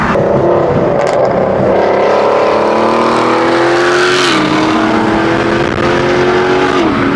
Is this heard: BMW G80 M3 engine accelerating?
yes